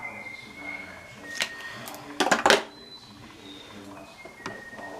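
Drawers are pushed shut in a home bedroom, giving a couple of sharp close knocks and a short rattling slide in the middle, with softer clicks around them over quiet room noise.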